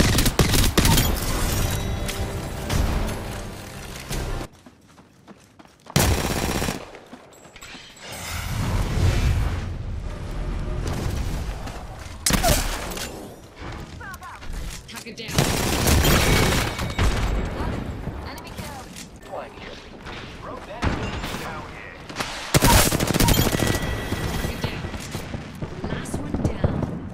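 Rapid bursts of automatic gunfire and booming impacts in an Apex Legends match, loud and close, with sharp volleys separated by brief quiet gaps.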